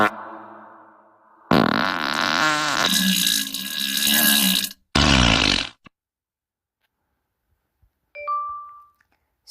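A fart sound effect plays as several loud, sputtering bursts, with a short tonal chime near the end and silent gaps between them.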